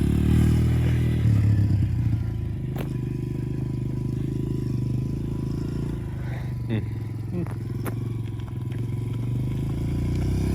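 2008 Kawasaki KLX 140 dirt bike idling and running with a loud, steady low engine drone, a few clattery scrapes as the throttle eases off and the brake goes on, and a voice talking over it.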